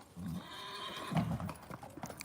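Horses close by, with a clear whinny near the start and again midway, set against soft shuffling and faint background voices.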